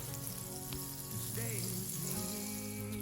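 Unsalted margarine melts in oil in a non-stick pan, giving a faint, steady sizzle and soft crackle that runs continuously in the background.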